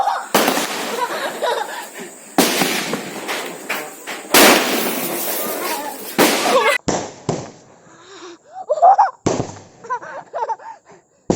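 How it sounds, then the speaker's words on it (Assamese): Firecrackers set off outdoors on the second day of Diwali, a series of sharp, loud bangs and crackling bursts at irregular intervals, close by, with people laughing and talking between the blasts. "ফটকা ফুটাইছে কেইটা ফুটিব 12টা ফুটিব"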